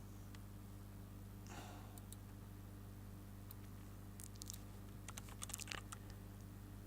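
An email being typed on a computer keyboard: scattered keystrokes at first, then a quicker burst of clicks near the end, over a steady low electrical hum.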